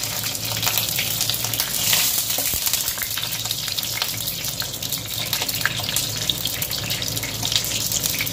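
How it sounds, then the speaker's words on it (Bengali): Dried red chillies and a bay leaf hitting hot mustard oil in a pan on a gas stove, a loud, dense, continuous crackling sizzle close by, steady throughout with no voices. "শুকনো লঙ্কা দিয়ে দিলাম"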